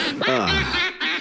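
A cartoon duck quacking in a short, nasal, close burst of honking calls, lasting about a second.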